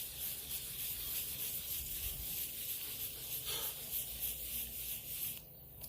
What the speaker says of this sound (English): we're going to get these two spots out of the way first. And then we'll just do a quick wet sand over the entire top